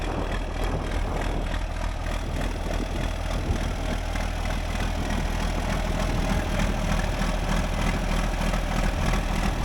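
A tractor engine idles steadily nearby, a low continuous rumble with a faint rhythmic throb and no other sounds.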